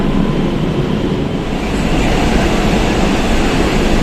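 An almost empty Kolkata Metro Orange Line train running between stations, a loud, steady low rumble and roar of the carriage that stays constant throughout.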